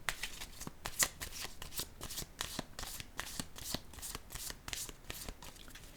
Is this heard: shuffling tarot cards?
yes